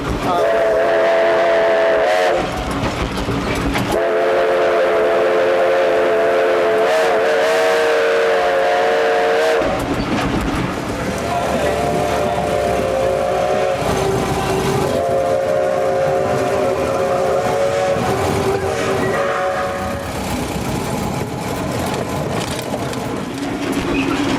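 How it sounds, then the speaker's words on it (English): A steam traction engine fitted with rare Southern valve gear runs at a threshing show, its whistle blowing in long tonal blasts over the steady chuff and rumble of the engine, close and loud. "It runs well. She's a sweetheart. It's one of very few engines in the United States running with Southern valve gear."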